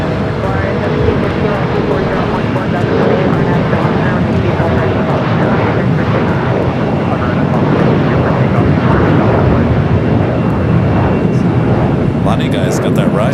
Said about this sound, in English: The 777 freighter up next for arrival.